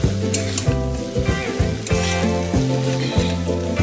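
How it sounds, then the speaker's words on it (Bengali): Chow stir-fried in a pan with soy sauce, chili powder and vinegar gives a steady sizzle that runs throughout, close and fairly loud, over a tonal musical background. "এটা একটু ভালো করে নেড়ে চেড়ে দেবো"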